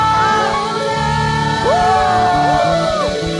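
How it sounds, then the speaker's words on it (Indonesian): A church congregation at a Sunday worship service shouts and whoops loudly together, overlapping voices rising and falling in a sustained, energetic chorus of cries. "Teriakan haleluya."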